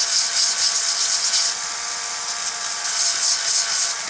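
Electric drill fitted with sandpaper running for small dollhouse log cabin furniture work, a continuous high whirring and grinding that dips slightly and rises again, close and steady with no talk.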